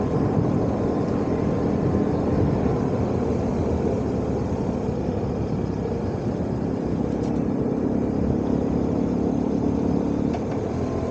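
A BMW R1100S with a Vanderlinde aftermarket exhaust gives a constant, throaty engine rumble unbroken throughout, a steady idling motorcycle heard fairly close with no voices.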